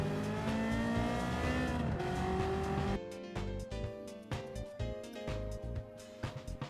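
Ferrari F40 with a twin-turbo 2.8-litre V8 racing in Gran Turismo 7, a loud sustained engine note with gear changes, then choppier revving bursts and shifts close by, alone without talk.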